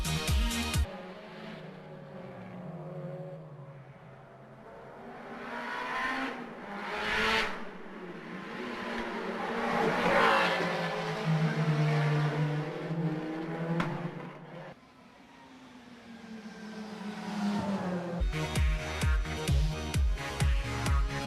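Race cars at the Macau Grand Prix street circuit: engines rise and fall through several passes, with a swelling roar mid-way and a dense, buzzing burst of revving near the end, moderately distant.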